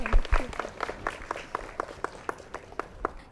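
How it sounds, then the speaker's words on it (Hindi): Enthusiastic audience applause on an Indian TV show, a steady patter of rapid claps spread across the clip at moderate loudness, with some faint background voices. "तो ज़ोरदार तालियां आपके लिए एक बार फिर।"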